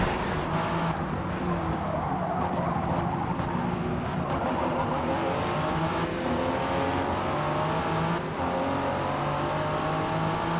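A race car engine roars steadily in Forza Motorsport, holding a loud, continuous drone with rising and shifting gear tones throughout, with no break in the sound.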